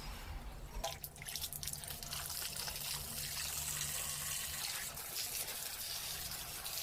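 Water runs and splashes steadily onto garden plants in front of a house at dawn on Ugadi, a continuous gushing with small drips, fairly faint and alone.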